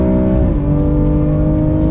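A loud BMW M2 Competition engine droning steadily on the Sepang circuit, with a brief pitch drop as it shifts gears before pulling on again.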